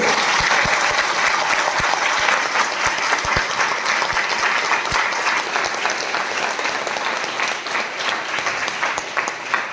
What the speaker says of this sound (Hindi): माता पिता के लिए जोरदार तालियां करो